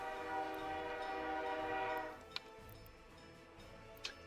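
A diesel locomotive horn in the Workers and Resources city-building game sounds a sustained, steady blast for about two seconds, then cuts off, leaving quiet rail ambience with a couple of sharp ticks.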